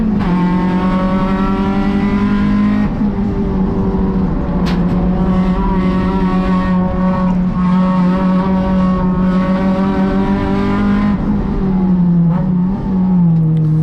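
Race car at Sonoma Raceway, down 40 wheel horsepower, pulling hard back on the throttle out of a corner in third gear, a loud, steady, close engine drone that holds at a high pitch throughout.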